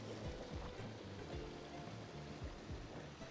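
Water from a lit backyard spa with bubblers running trickles steadily over its edge into a pool at a Las Vegas home, a soft, continuous splashing wash heard alone.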